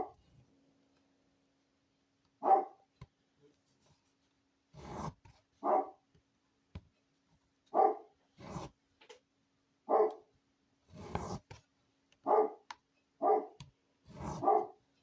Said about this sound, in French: Le chien du voisin